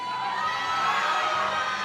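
A large crowd at a high school powerlifting nationals cheers and shouts continuously and loudly in support of a lifter's attempt, with children's voices mixed in.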